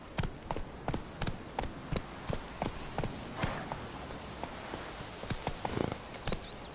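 Roach, Geralt's horse in The Witcher 3, gallops with steady, evenly spaced hoof clops, each beat crisp and fairly close, repeating throughout without any voices.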